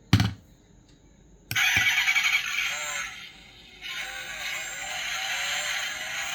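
A 1/24 scale Lamborghini Centenario model car plays an electronic engine-start sound from its speaker: a sharp click, then a loud crank and rev that settles into a steady idle with a brief dip and rise, fairly close.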